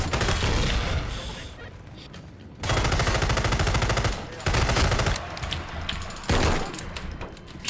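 Turret machine-gun fire in the video game Hunt Down the Freeman, loud sustained bursts that start and stop several times with short pauses between them.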